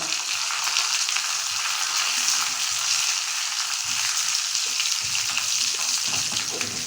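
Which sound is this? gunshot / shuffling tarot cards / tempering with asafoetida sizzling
tempering with asafoetida sizzling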